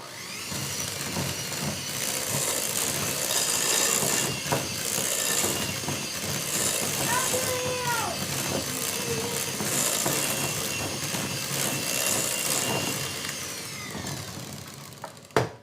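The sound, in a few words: electric hand mixer mixing cupcake batter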